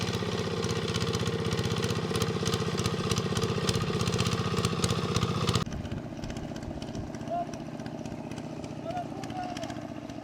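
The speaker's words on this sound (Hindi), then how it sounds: "अभी वो ट्रैक्टर आ रहा है ना," A tractor engine runs loud and close in a Bhutan village with a steady droning chug, then drops abruptly to a quieter, more distant rumble about halfway through.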